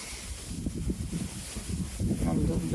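Gusty wind blowing into the microphone at a country dacha, a steady low rumble that swells and strengthens toward the end, with faint rustling.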